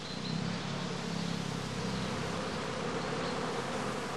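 Honeybees swarm around straw skeps at a house apiary in sunshine, a dense, continuous buzzing hum close by with no voices.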